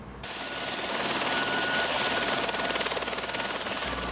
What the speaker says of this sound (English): lifted above the flood by helicopters provided by the Pennsylvania National Guard